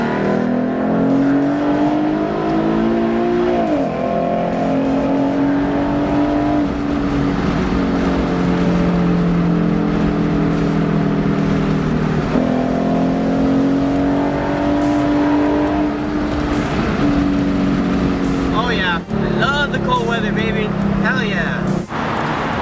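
A Ford Mustang on Mickey Thompson tires, driven in cold weather, pulls hard in first gear. The engine note climbs in loud, repeated sweeps with brief dips between pulls, close and continuous throughout.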